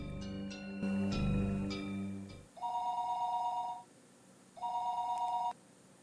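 A phone rings in the Higurashi game: a ringback tone with a sharp bell-like buzz, then two long, steady electronic ring tones separated by a pause.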